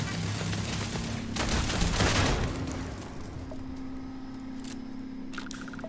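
A turret opening fire in the game Starfield, a rapid burst of automatic shots swelling over a low steady hum, then fading into faint mechanical clicks and a few sharp ticks, with brief talking.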